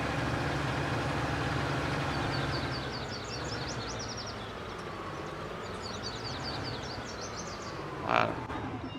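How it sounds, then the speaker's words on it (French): Tractor engine idling in the farming video game Farming Simulator 19: a steady low rumble running the whole time, with chirping birds above it and a brief louder burst near the end. "On va aller ranger le tracteur."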